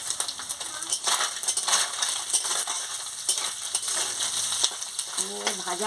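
Spices and chopped onion tempering in hot oil for a ridge gourd curry with small fish, a close sizzle with stirring scrapes and utensil clinks, a voice briefly audible near the end.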